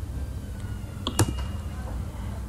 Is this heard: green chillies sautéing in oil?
no